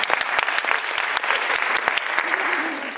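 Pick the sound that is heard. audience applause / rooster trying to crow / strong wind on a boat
audience applause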